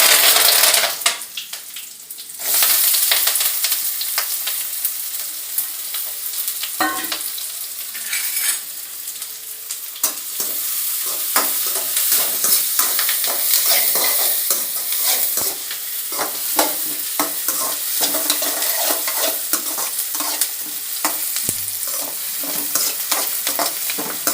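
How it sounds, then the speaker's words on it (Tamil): Sliced big onion and curry leaves sauté in hot oil for a prawn gravy, a continuous close sizzle with frequent stirring scrapes and spatula clicks throughout, loudest in the first few seconds. "கருவேப்பிலை போட்டு ஒரு பெரிய வெங்காயம் கட் பண்ணி போட்டு அதையும் போட்டு நல்லா வதக்கிடுவேன்"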